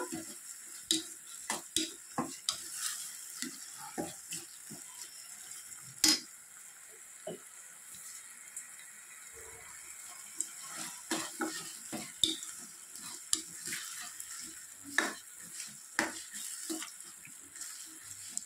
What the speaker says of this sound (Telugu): కొంచెం అల్లం వెల్లుల్లి పేస్ట్ వేసి కొంచెం అలా ఫ్రై చేసి